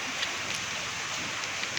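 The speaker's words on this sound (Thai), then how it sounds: "ฝนตกแบบนี้ออกไปไหนไม่ได้ค่ะ" Steady rain falls in a continuous, soft, even hiss of drops on surfaces, moderately faint and with no voices.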